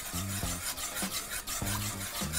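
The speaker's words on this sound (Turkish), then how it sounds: "Kremayı da karıştırıyorum." A spoon stirs cream into curried cauliflower soup in a pot, making close, rhythmic scraping strokes that repeat about every half second with a soft rasp between them.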